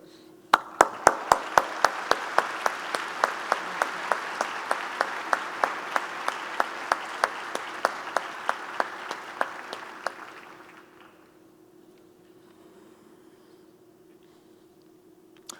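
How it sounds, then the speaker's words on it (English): Audience at a McGill University fall convocation ceremony gives a warm round of applause for a jazz quintet, crisp claps close and dense for about ten seconds over a steady hum, then fading to quiet room tone. "I invite you all to join me in a warm round of applause for the Ryan Sands"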